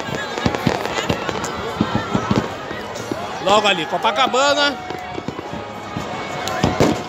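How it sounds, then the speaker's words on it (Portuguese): New Year fireworks burst over Icaraí beach in Niterói, with scattered booms and crackles throughout and a denser flurry of whistling, popping shells midway, while someone talks over the display. "Podem ver aí a evolução dos fogos de artifício."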